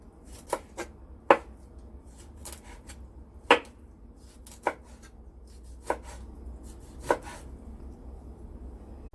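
A cleaver chops sliced fish finely on a board, giving about eight crisp, close knocks at an uneven, unhurried pace over a low room hum, with no talk.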